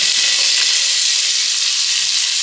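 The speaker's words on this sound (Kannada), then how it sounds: "ಇದು ಗೋಲ್ಡನ್ ಬ್ರೌನ್ ಬರೋ ತನಕ ಚೆನ್ನಾಗಿ ಫ್ರೈ ಮಾಡ್ಕೋಬೇಕು" Onion and tomato fry in a pan for beetroot palya, giving a steady, dense sizzle that holds evenly at close range for the whole stretch, with no voices over it.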